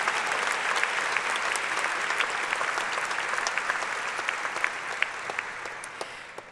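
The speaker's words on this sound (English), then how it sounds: "That's worthy of an applause." A commencement audience breaks into dense, sustained applause, loud and even, tapering slightly toward the end, with no one speaking over it.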